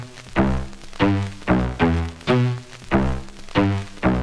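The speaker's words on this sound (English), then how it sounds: "we're just going to kind of loop that idea and add a little bit of vinyl crackle" A looped one-shot synth sample with vinyl crackle added, for a song intro: a steady, repeating pattern of about eight punchy tonal hits, loud and alone, with no voices.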